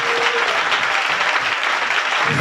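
A church congregation applauds and cheers in acclaim of Jesus, a dense burst of clapping that fills the room and then fades, with no voices rising above it.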